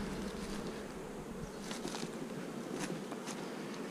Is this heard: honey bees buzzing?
yes